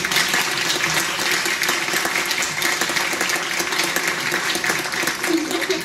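An audience applauds students introduced with their teacher at a 2023 ceremony, producing a thick, continuous roar of clapping that stays loud and uniform from start to finish, with no speech on top.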